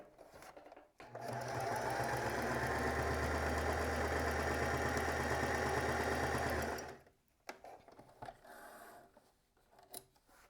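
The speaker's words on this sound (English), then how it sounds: "now I'm just going to sew to the other side" A sewing machine stitches a quilt block seam for a monthly block project, running in one steady, loud continuous burst of about six seconds with a droning motor hum and rapid needle clatter, then stopping, followed by faint handling noises.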